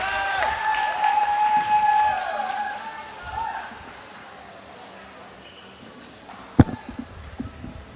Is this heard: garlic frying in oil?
no